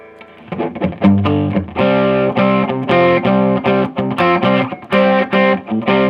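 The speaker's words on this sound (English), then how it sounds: "they get this kind of open, growly sound. You add a little bit of distortion with that." Distorted electric guitar strums a series of sustained power chords, loud and gritty, with brief gaps between each ringing chord.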